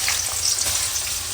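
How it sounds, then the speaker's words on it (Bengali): Onions hiss and crackle in a hot frying pan on a home stove, a steady broadband sizzle filling the whole short moment, close and fairly loud with no voices. "পেঁয়াজ দিয়ে দিচ্ছি"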